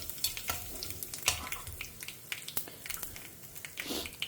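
Mustard seeds, cumin, fenugreek and asafoetida crackle and pop in hot oil and ghee for methi kadhi, with sharp irregular snaps over a steady close sizzle.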